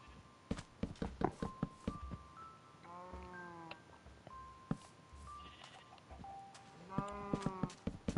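Minecraft cows low in two drawn-out moos amid scattered soft in-game clicks and footsteps, the sounds fairly quiet and close.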